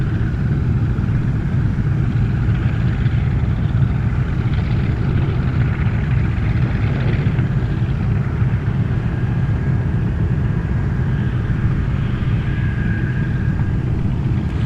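A plane takes off from runway 33 at Anchorage's Ted Stevens International Airport, a steady, loud, low engine roar that holds throughout with no voices.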